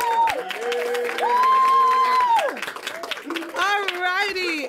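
Audience applause and cheering at an I Will Graduate Day education event, steady clapping layered with loud sustained whoops and shouting voices throughout.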